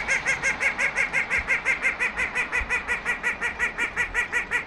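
A small white duck calls in a fast, steady series of repeated quacks, evenly spaced and continuous, moderately close.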